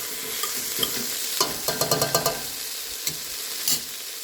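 Vegetables sautéing in a soup pot for Italian sausage stuffed pepper soup: a steady sizzle broken by a quick run of sharp spoon clacks against the pot, then a few scattered taps.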